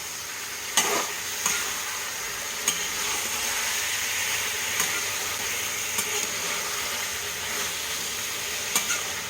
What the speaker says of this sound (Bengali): এবারে চিংড়ি মাছটা এপিট ওপিট করে খালি ভাজব পেঁয়াজের সাথে